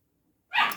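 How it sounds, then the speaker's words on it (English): After near silence, a dog lets out one sharp, fairly loud bark that trails off briefly indoors. "Do excuse the dogs, they are making a fuss in the background."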